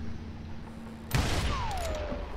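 Gunfire in the Western shooter game Call of Juarez Gunslinger: an abrupt shot bursts out about midway and leaves a sustained, loud noisy wash with a descending whistle-like tone after it, and no talking.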